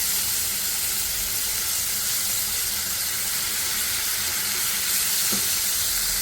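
Tomato paste cooking down in a pan, with the water in it sizzling as a steady, close broadband hiss that runs continuously and evenly, with no voices.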